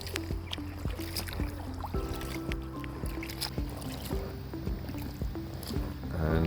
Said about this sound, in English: we're still paddling in the sunshine